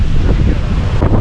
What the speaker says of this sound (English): It's a bit grey and windy because we're in the middle of a tornado.